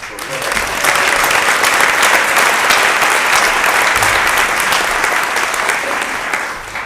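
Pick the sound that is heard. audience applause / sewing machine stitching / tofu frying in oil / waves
audience applause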